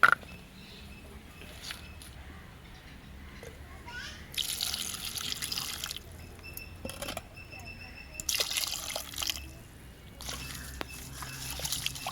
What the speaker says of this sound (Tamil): இப்போ இதே மாதிரி என்ன செய்யணும்னு சொன்னால் தண்ணி ஊற்றி கழுவுவோமே.